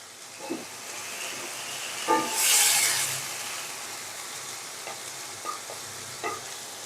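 Whole dried chilies, bay leaves, ginger, garlic and cumin fry in hot oil with a soft, steady sizzle, broken by several stirring scrapes and a brief louder hiss burst near the start.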